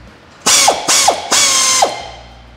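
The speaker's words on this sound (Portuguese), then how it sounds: "ó, com a nossa catraca." Three loud bursts from a pneumatic air ratchet tightening bolts with washers and nuts, each a sustained whirr ending in a sharp clack, close up with no talking.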